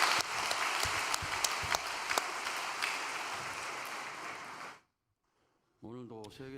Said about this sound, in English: Why don't we give a big round of applause of gratitude to them?